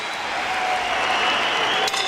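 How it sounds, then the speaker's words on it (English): An arena crowd applauds after a twelve-round 1999 boxing match between Paulie Ayala and Johnny Tapia, a steady wash of clapping and cheering with a faint tonal hum running beneath. "they both deserve a round of applause."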